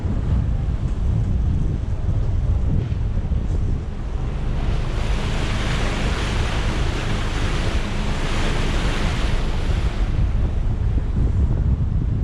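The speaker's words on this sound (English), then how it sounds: "We're actually on the ferry now. Quickly show you, just leaving." Strong wind buffets the microphone as a ferry heads out of a harbour in the British Virgin Islands, with a continuous roar of wind and rushing waves against the hull, loud and unbroken, with no voices.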